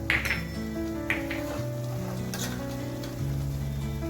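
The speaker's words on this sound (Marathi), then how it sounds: "हे सगळं चांगलं परतून घ्यायचं याच्यामध्ये तेल सुटेपर्यंत" Spices sizzle as they sauté in hot oil for mushroom masala, including mutton masala, cinnamon powder, coriander powder, turmeric and byadgi chilli powder; a soft, steady frying hiss sits beneath louder tonal background music.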